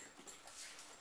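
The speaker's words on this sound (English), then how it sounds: "This is my dog, Yoshi." A pet dog whimpers and pants close by in a short, quiet burst of soft breathy whines, with no speech.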